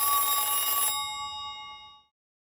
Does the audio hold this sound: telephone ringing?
yes